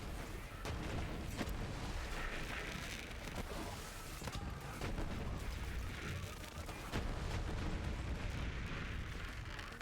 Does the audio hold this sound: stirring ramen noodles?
no